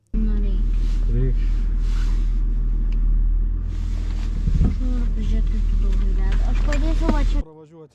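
A Range Rover L322 td6 diesel rumbling loud and close as it pushes through mud and ice, a steady low engine drone with splashing and cracking over it, while someone talks throughout.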